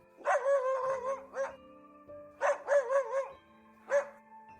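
Tracking dogs bark and yelp in two close bursts of several quick, strained cries each, with a long steady tone droning underneath, then a single last yelp.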